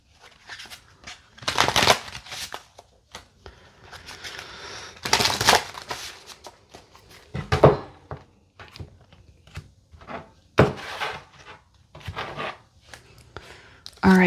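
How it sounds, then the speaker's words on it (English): A tarot deck shuffled by hand in several bursts of riffling and fluttering cards, close and loud, with quieter taps and handling between bursts. "Give me 3 more shuffles."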